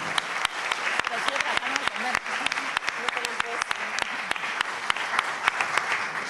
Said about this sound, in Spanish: Recibamos con un fuerte aplauso a la señora Milagro